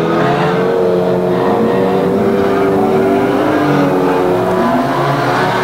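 Unlimited 1500 banger racing stock cars roar around the Kings Lynn oval, a loud continuous wash of engines revving and droning together at close range with no pause.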